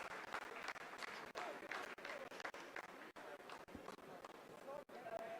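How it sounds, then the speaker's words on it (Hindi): Scientists applaud in mission control during the Chandrayaan-3 soft landing on the Moon. A faint, uneven patter of clapping continues under talk, broken by brief dips. "आप इस तालियों के गड़गड़ाहट को सुन सकते हैं"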